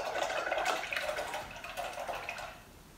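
A paintbrush is swished and rinsed in a water container at a painting table, a close, steady splashing and trickling of water that eases off toward the end, with no voices.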